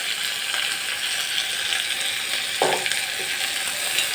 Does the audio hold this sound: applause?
no